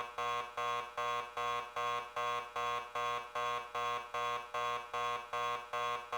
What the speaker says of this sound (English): I apologize for the beeping.